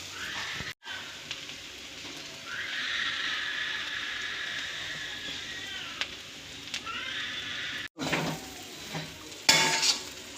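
Broad beans (chikkudukaya) fry in a pan, a close sizzle swelling in the middle, with metal utensil scrapes and clinks, two abrupt cuts and a louder clatter near the end.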